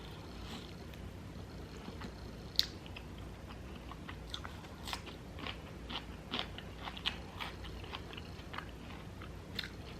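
Someone chews and crunches a raw jalapeno pepper at a mukbang meal, with scattered close crisp bites and soft mouth sounds over a steady low background, no talking.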